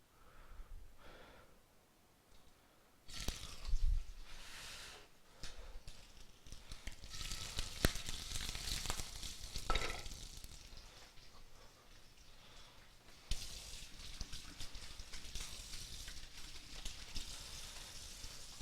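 Shrimp and scallops searing in a hot pan, a steady broadband hiss that swells and drops as food is moved, with a few clunks and louder bursts partway through and no talking.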